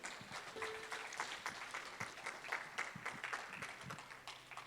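A church congregation at a Sunday service applauds steadily, with dense, continuous clapping that stays at a moderate, even level throughout.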